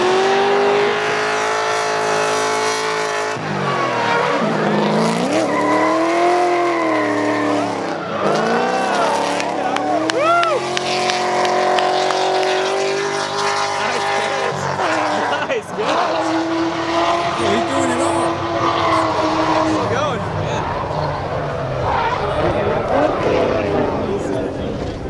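A Nissan S14 does a burnout at a HyperFest burnout contest at Virginia International Raceway, its engine revving hard in wavering surges while tires squeal and screech loudly, with crowd noise and voices mixed in.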